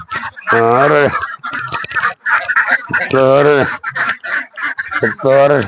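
Ducks quack loudly and repeatedly close by in a pen housing thousands of ducks before dawn, in harsh bursts with short gaps, busy and noisy throughout.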